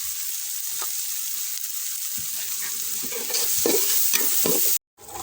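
Onions with curry leaves and turmeric stirred in a hot pan for a Kerala beef curry, a steady sizzle with intermittent spatula scrapes growing busier toward the end before a brief dropout, no speech.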